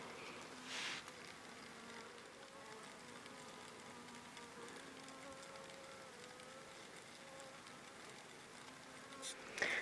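A single honey bee buzzes close and steady on a hand near snow-buried beehives after a severe winter, a continuous wavering drone that swells slightly near the end.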